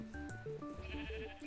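Sheep bleating in the Minecraft modpack Pam's HarvestCraft 1.15.2: a quick run of wavering, nasal game bleats that overlap, clear and close with no voices.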